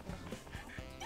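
A cartoon dog from the Petz Sports video game yips and whimpers in short, bright bursts over a dense, busy game soundtrack.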